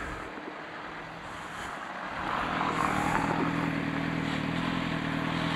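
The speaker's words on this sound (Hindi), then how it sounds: "तो बाइक विल स्टार्ट." A Suzuki GSX-R motorcycle engine fires up and settles into a steady idle that grows louder about two seconds in, a broad rumbling roar with no talk.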